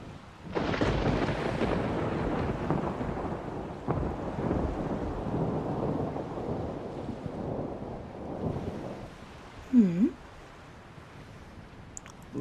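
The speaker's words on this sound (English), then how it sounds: "Looks like a storm." A low thunder rumble swells and rolls for several seconds over wind and rain noise, then fades, with a brief whooshing gust near the end.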